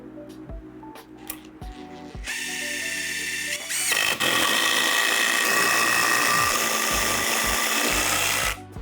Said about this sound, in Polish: Najpierw ją połączę wkrętem CS, który łączy i dociska obie belki ze sobą.